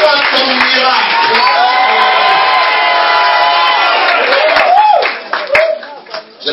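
A church congregation loudly cheers and acclaims in a sustained roar of voices with clapping and whoops, then breaks into scattered shouts as the din subsides near the end.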